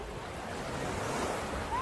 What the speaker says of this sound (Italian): Vediamo qui il mare di Villapiana.